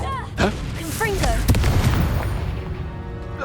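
A Confringo blasting spell goes off in Hogwarts Legacy, a sharp burst followed by a rumbling boom that lingers under dense game sound with ringing magical tones.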